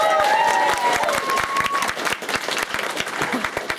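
Convention audience applauding at an anime convention closing ceremony, a dense steady patter of many hands clapping close by, with a brief voice over the start.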